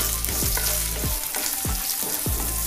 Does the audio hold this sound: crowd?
no